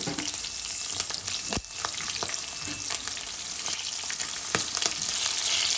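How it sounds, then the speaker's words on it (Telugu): Green chillies and whole garam masala spices sizzle steadily in hot oil for egg biryani, a dense continuous crackle with occasional sharp pops and stirring scrapes, close and fairly loud with no talking. "సో కొంచెం పచ్చిమిర్చి ఫ్రై అయిన తర్వాత నేను దీంట్లోకి హోల్ గరం మసాలా తీసుకుంటున్నాను"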